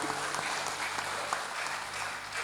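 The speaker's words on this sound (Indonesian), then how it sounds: "Tepuk tangan juga nggak apa-apa, yang tepuk tangan satu." Audience at an Islamic religious gathering breaking into steady applause, a dense wash of many hands clapping, moderately near and continuous for the whole stretch.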